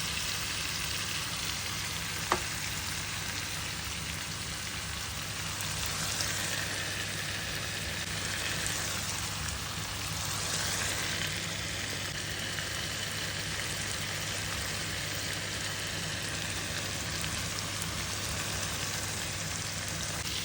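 Spice paste fries in hot oil in a pan ahead of adding fish, giving a steady, soft sizzle that holds evenly throughout, with one brief click near the start and no voices.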